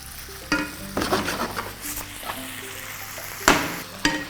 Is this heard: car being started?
no